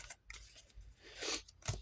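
Edge scissors cutting paper for a craft project, several crisp, close snips in quick bursts, heard alone without talk.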